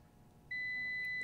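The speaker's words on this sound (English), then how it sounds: "So it's going to beep and tell me when parts are properly secured on the aluminum shield." A multimeter's continuity tester sounds a single sustained, clear electronic beep while checking connections to an aluminum shield in a 1961 Fender Jazzmaster, starting abruptly halfway through after quiet room noise.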